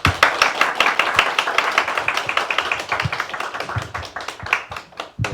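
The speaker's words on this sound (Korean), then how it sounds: "따뜻한 박수로 맞아주시기 바랍니다" Audience clapping to welcome a visiting professor at a citizen participatory education results presentation, a dense burst of hand claps that thins toward the end, with a few brief voices mixed in.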